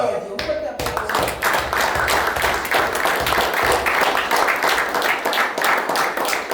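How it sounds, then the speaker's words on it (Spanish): A church congregation breaks into loud, sustained applause after a hymn, many hands clapping together in a dense, continuous patter that begins abruptly and carries on steadily. "Un fuerte aplauso."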